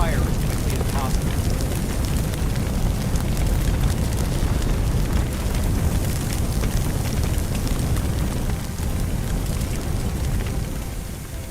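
In the Firefighting Simulator game, a fire hose sprays water onto indoor flames, giving a continuous broad rushing hiss that stays loud and steady for the whole stretch.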